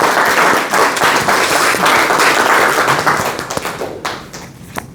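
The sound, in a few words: audience applause for the Toastmaster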